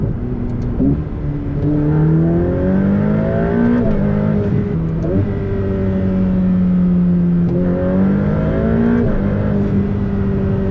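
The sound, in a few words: sports car accelerating hard through gears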